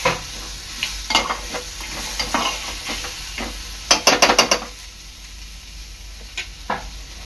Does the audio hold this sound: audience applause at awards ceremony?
no